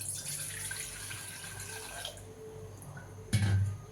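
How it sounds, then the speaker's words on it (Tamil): Water runs steadily from a tap into a pot, a continuous splashing hiss, followed by a brief louder gush near the end. "இந்த ஒரு சொம்பில் தண்ணி விட்டுக்கிறேன்"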